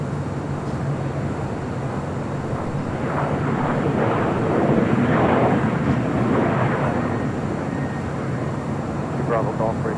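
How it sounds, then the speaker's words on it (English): A China Cargo Airlines Boeing 777 freighter arrives at LAX on the south side, a steady broad engine roar swelling slightly at mid-distance amid wind and background noise. "Next arrival on the south side is China Cargo Airlines Flight 229 coming in from Shenzhen."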